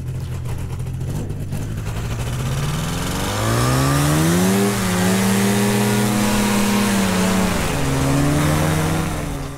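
A paramotor engine rolls up to full power for takeoff, a loud steady drone that climbs in pitch over several seconds, holds high, then dips briefly before rising again, with wind noise throughout and no talking.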